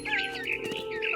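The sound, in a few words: bird chirping, from video game What Remains of Edith Finch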